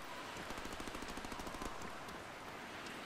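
Rapid gunfire aimed at the player in the Deadpool video game, a faint run of quick, evenly spaced shots rattling in the background for about a second before fading into steady noise.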